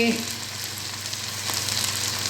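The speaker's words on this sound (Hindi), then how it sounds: "इसके अंदर मैं डालने जा रही हूँ वो वाला मटीरियल जो मैंने अचार गोश्त का योगर्ट के अंदर डाल के तैयार किया था" Yogurt marinade for achar gosht sizzling in a hot frying pan, a steady close crackling hiss throughout with a brief splatter at the start.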